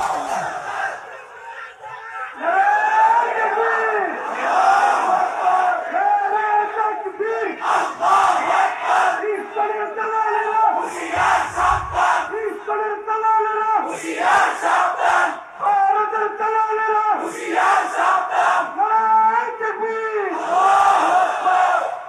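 A large crowd at a religious gathering roars chanted slogans in loud, rhythmic bursts, answering a leader's calls again and again, with brief dips between each surge of massed voices.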